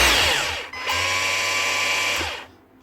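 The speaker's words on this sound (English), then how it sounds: "So I can actually press this against the steel and see if the hammer's working on it." Cordless Hilti TE7-A SDS hammer drill, 36V, with no chuck fitted, its bare striker hammering against steel: a loud, steady buzzing rattle that cuts out briefly, restarts for about 1.5 seconds, then stops.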